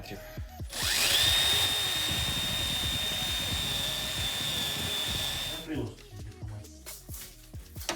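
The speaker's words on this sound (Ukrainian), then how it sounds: "для врізки нам треба фреза діаметром 16 мм" A router with a 16 mm cutter mills a hinge recess in a painted door, spinning up to a loud steady high whine for about five seconds before winding down, with clatter and handling noise around it.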